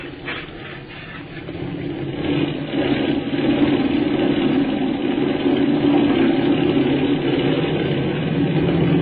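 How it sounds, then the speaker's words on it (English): A plane engine on an aircraft carrier runs at a steady, loud drone that swells and holds as it revs up for takeoff, with a muffled, narrow-band tone and no talk over it. "I'm revving her up for takeoff."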